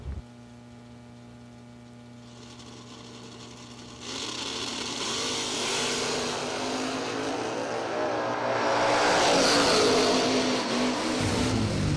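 Drag race cars, including the Mosier Camaro, roar down a racetrack, starting with a steady idling hum before loud engines surge past and build to a peak.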